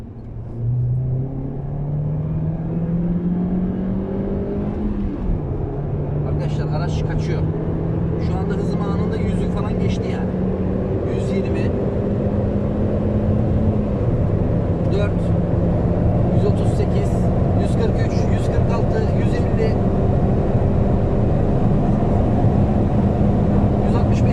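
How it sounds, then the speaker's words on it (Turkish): Honda Civic FB7 engine revving in second gear around 3500 rpm at about 47 km/h, a steady drone rising in pitch with gear-like steps, heard from inside the car under continuous talk. "İkinci vites 3500 devirde ve gazlıyorum arkadaşlar."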